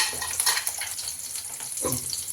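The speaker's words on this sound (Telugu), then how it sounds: "ఆనియన్స్ బాగా వేయించుకుందాం" Onions frying with curry leaves and green chilies in a pan, a steady close sizzle with soft scraping stirs throughout, no voices.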